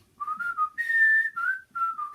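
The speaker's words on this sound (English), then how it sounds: "And then the whistle." A clear, close whistle carries a melody at a school singing assembly, moving through several smooth, sustained phrases with a brief pause between them and no voices.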